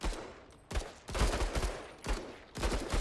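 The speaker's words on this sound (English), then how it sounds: "Can I get 2 shots in from here?" Gunfire in the sci-fi turn-based tactical game Menace: several sharp shot bursts in quick succession with a pause between groups, moderately loud and heard alone.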